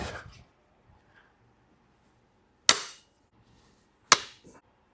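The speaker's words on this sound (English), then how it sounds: "now that my head's finished banging on the camera" A head bumps against a camera twice, giving two sharp, close knocks a little over a second apart against otherwise near-silence.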